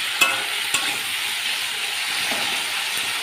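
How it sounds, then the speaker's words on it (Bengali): Potatoes and pointed gourd frying in a pan with turmeric and salt, a steady close sizzle with two sharp stirring clicks near the start, no voices. "আলু আর পটলটা কিন্তু খুব ভালো করে ভেজে নিতে হবে।"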